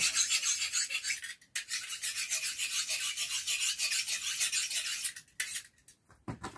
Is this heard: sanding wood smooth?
yes